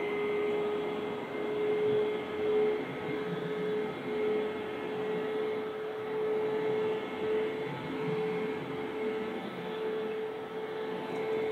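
A Hoover cyclone vacuum cleaner runs on carpet, a loud, steady motor drone with a constant whine held throughout, no talk.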